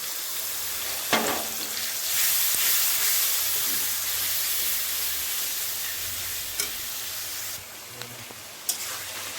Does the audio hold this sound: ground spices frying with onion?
yes